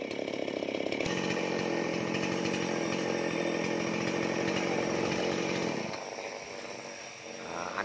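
A tree cutter's chainsaw roars continuously while felling a tall palmyra palm, loud and close with a steady high whine that eases off slightly near the end.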